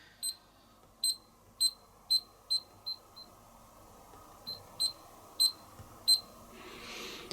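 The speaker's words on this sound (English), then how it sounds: "We've got keypad tone, which is this beeper." Short high beeps from the keypad of a Miele W1 WMV960 washing machine, about ten crisp tones in two uneven bursts, close and clear over a quiet room.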